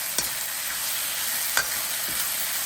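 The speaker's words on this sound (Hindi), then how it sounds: "इसको अपने तेज़ आँच पे मिक्स कर लें ताकि हर तरह से मीट आपका कुक हो जाए।" Marinated beef for a chilli stir-fry cooks over high heat, sizzling steadily up close while a few sharp spatula scrapes stir it in the pan.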